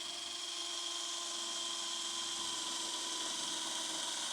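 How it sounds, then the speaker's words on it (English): Steady whine of a solid power drill boring holes into the back of a strawberry planter, continuous and close for the whole stretch with no pauses or voices. "drill some holes in the back of this planter here"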